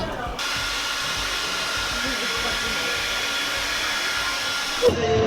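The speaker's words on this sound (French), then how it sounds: "On va mettre le sèche-cheveux Marie-Claire." A hair dryer blows with a steady, loud whooshing hiss, switching on at the start and cutting off near the end.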